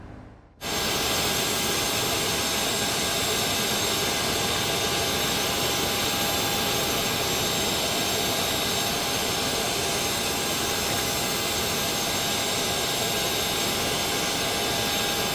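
Engine 1 of a C680 Sovereign business jet spools up during start in a flight simulator game, a loud steady turbine roar with a high whine that begins suddenly and holds constant.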